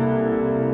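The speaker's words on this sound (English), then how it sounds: "Here's the sound of a C13th chord." A C thirteenth chord sounds as one sustained, loud, rich chord with many steady harmonics, heard alone and close.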